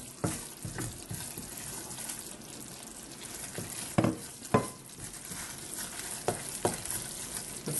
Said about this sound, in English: make sure you keep stirring. Especially stir at the bottom of the saucepan